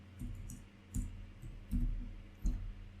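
Computer mouse clicks sound while working in Dynamics 365 software: four or five soft, dull clicks at irregular intervals, close by and quiet, with no voices.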